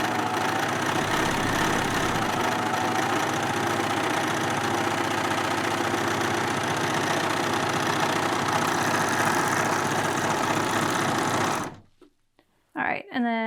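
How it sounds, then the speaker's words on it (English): A serger sewing machine stitches fabric in a long, loud, close, steady whir that stops abruptly near the end, followed by brief quieter handling sounds. "with the serger, you don't need to reach around the back and always lift up the presser foot"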